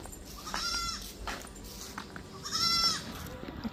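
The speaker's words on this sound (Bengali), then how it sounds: "এখানে দেখো কত ছাগল" Goats on a village road give two separate bleats, one near the start and one near the end, over faint outdoor background hum.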